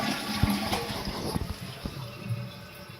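A reinstalled toilet flushing nearby, with a rushing gurgle of water, a few sharp clunks near the start and a draining swirl that fades over three seconds.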